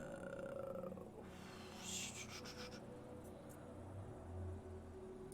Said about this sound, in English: I do apologise if you can hear the big growly car engine in the background